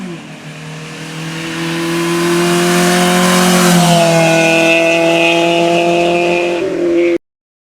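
A 1989 Honda Civic Wagon DX engine under load while driving, a loud, close, steady drone that climbs in pitch as it accelerates, then cuts off abruptly.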